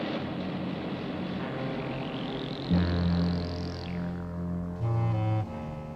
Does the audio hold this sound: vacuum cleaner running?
no